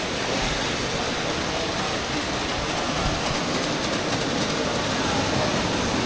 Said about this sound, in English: Oh, model trains.